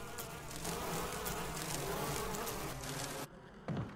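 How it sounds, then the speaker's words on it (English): Bees swarm and buzz around a giant beehive in the Resident Evil remake video game, a dense continuous drone that cuts out near the end before briefly returning. "You see a giant beehive!"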